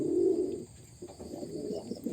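Low, soft cooing of pigeons nearby, a rolling coo followed by quieter repeated murmurs.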